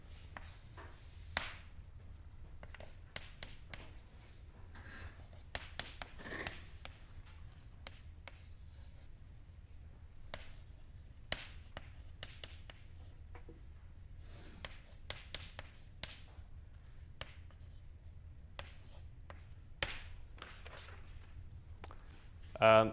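Chalk or marker scratches and taps on a lecture-hall board come in short, faint, irregular strokes spread over about twenty seconds, with soft room noise between them.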